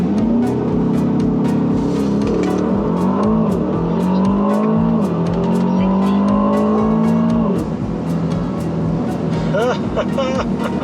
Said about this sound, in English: we're about to try to do a 0 to 60 draggy real quick